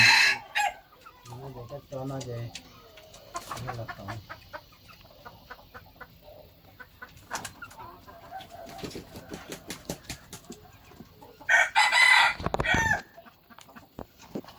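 Three red-eared wild junglefowl from northern Laos cluck in scattered bursts at close range, with a loud harsh crow rising near the end over quieter background calls.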